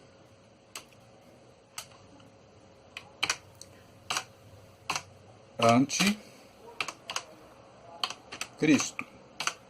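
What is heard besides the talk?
typing on a computer keyboard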